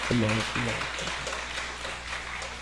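A church congregation at a Sunday morning service claps for a young marine home on leave. The clapping is soft and fairly distant, after a brief voice at the start.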